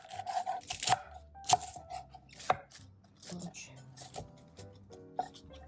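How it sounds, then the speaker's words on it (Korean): A knife chops through napa cabbage on a cutting board in a home kitchen, making sharp, uneven thuds and crunches, several strokes close by, with soft talking underneath. "알배추를 잘라줘요."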